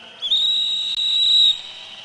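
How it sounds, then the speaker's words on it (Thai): A handheld whistle is blown at a political protest gathering, giving one loud, close, shrill blast of a bit over a second with a tiny break in the middle. No talking. "เอามือล้วงออกมาครับ แล้วเป่าลูกหวีดครับ อย่างนี้ครับ"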